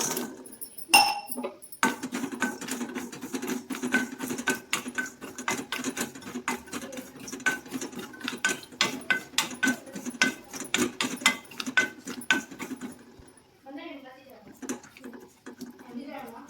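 Makhana (fox nuts) being roasted and stirred in a pan over a medium flame, a rapid, steady scraping and rattling of the light nuts against the pan for many seconds, close and moderately loud.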